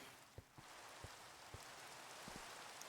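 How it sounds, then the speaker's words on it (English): Steady rain from the Minecraft video game, a faint continuous hiss of falling water with occasional soft low taps, alone without talk. "I feel like it's the same volume as the rain in the Minecraft right now"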